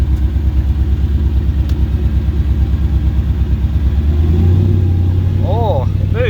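A Ford Capri fitted with a 5-litre Mercedes M113 V8 idles with a loud, lumpy, pulsing rumble close by, then the tone shifts and swells as it is put in gear and creeps forward, with brief voices near the end.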